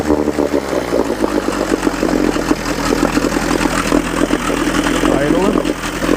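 A Mercury 110 9.8 hp outboard motor idles slightly fast at close range, a steady loud buzzing drone with a constant low rumble, holding alone without talk.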